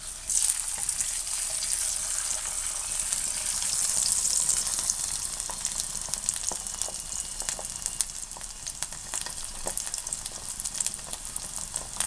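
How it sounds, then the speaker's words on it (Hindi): Eggs fry in a pan for desi-style fried eggs, giving a steady bright sizzle with small crackles and pops, moderately loud and continuous, with no one talking. "दूसरी साइड से हल्का सा ही पकाएं और प्लेट में निकाल लें"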